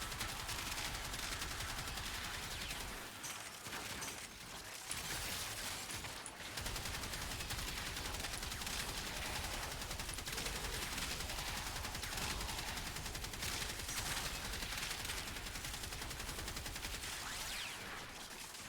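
Reconifex weapon from the game Warframe, an assault-rifle-like gun, firing in long sustained bursts with dense rapid shots; loud and continuous for the whole stretch, only brief gaps.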